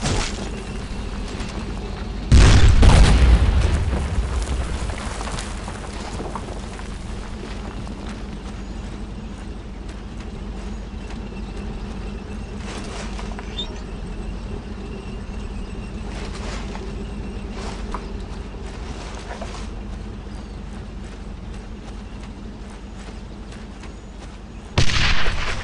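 In the World War II shooter Brothers in Arms: Road to Hill 30, one loud close blast of gunfire erupts early, followed by long stretches of low battlefield rumble and a few faint scattered shots, with another sharp burst at the end.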